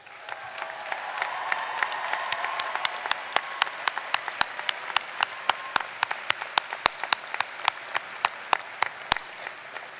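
A commencement audience at Husson University applauds the faculty, a broad wash of clapping from many hands that thins out into scattered, sharper individual claps toward the end.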